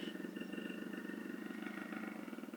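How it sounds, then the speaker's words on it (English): A leopard gives a continuous low, rapidly throbbing rumble with a steady, fast pulse, heard alone at moderate level for a couple of seconds. "That's a leopard."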